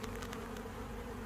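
Honey bees buzz during a hive inspection, a dense close drone of many wings humming steadily with brief brighter passes of individual bees.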